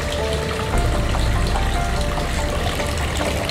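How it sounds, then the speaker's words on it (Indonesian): Water flows steadily from a handwashing tap at an Indonesian elementary school, a continuous close splashing gush with no pauses. "di sini juga ada keran yang bisa kalian untuk cuci tangan ya. Airnya selalu ada mengalir seperti ini."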